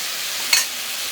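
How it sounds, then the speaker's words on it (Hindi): Tomatoes frying in a pan, a brief steady sizzle with one short scrape or stir partway through. "टमाटर डाल के इसको थोड़ा सा भून लेते हैं।"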